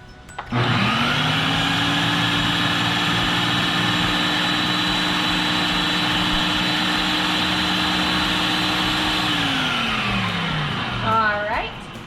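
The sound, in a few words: blender pureeing jalapeno salsa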